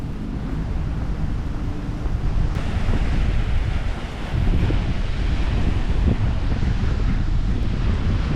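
Beach at Da Nang, Vietnam, with a steady roar of surf and waves, mixed with heavy wind buffeting against the microphone. The sound is loud and continuous, with no voices.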